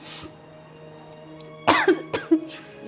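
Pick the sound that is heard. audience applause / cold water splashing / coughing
coughing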